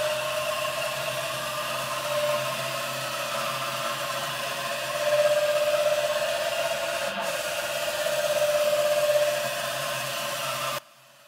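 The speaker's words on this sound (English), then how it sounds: "The axis starts to rumble a little bit" A CNC machine's servo-driven axis, tuned to a high stiffness setting, gives off a steady whirring rumble with a sustained tonal hum that swells twice during movement and then stops abruptly near the end.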